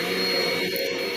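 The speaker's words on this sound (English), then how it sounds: "It's a vacuum." A vacuum cleaner running close by, a steady broadband whine with a strong tonal hum, continuous and loud with no pauses.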